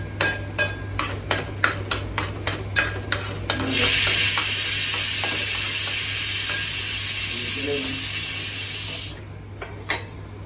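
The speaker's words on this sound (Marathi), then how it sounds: "आणि चांगले खोबऱ्याचं वाटण परतून घेणार आहे." Coconut spice paste for a pomfret fish curry is stirred with clicking spoon taps against the pan, then a loud steady sizzle as it sautés for several seconds before fading back to stirring.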